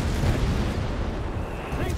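Artillery barrage in Company of Heroes 3, a dense rumbling wash of booms and blasts filling the background while a caster talks over it.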